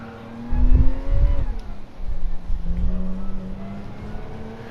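Race car engine in Gran Turismo 7 on the Lake Maggiore circuit, droning steadily with pitch rising and falling through gear changes, loud and continuous with no talk.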